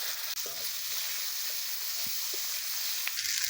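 Chopped onion sizzles steadily in hot oil with five-spice tempering, alongside crushed garlic, in a mixed-vegetable village cooking dish; a constant close frying hiss with a few soft stirring knocks.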